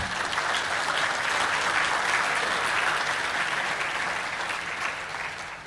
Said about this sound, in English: All of you clapping